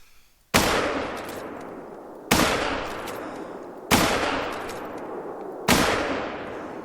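Four rifle shots are fired at a bear in the hunting video game theHunter: Call of the Wild, each a sharp loud crack with a long decaying echo, spaced roughly every one and a half to two seconds.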